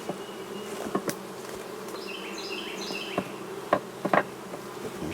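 Honeybees buzzing steadily around an open top bar hive, a dense continuous hum with a few louder drones passing close and occasional faint knocks from the hive work.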